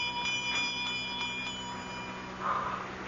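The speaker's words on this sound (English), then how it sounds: "I'm trying to see where that bell came from" A small bell rings steadily in a quiet room of a haunted Irish castle, a thin repeated tinkling sounding continuously at moderate distance with faint background hiss.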